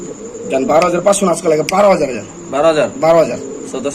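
Pigeons coo in repeated low, throaty rolling calls, close and fairly loud, with a faint steady high whine in the background.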